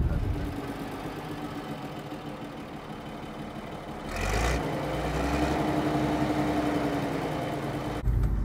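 An old Hungarian Ikarus bus engine, first quiet with a faint background hum, then cranking and catching midway before settling into a steady, loud, low diesel idle with a slight knock.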